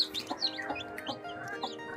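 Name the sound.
chicken chicks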